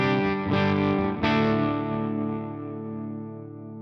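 Electric guitar through the clean channel of a Peavey Valveking 212 tube combo amp, a few full chords strummed and left to ring out and slowly fade, close and fairly loud with no talking.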